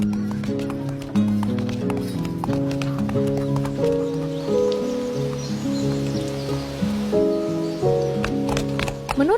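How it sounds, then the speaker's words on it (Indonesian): A Minecraft horse makes blocky hoof clip-clops and game sounds over layered tonal music, with steps repeating through the passage. "Kuda gua mana ya?"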